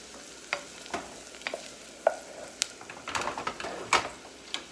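Vegetables sauté in a pan on the stove with a steady low sizzle, broken by scattered clicks and scrapes from stirring, moderately close.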